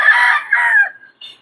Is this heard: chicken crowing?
yes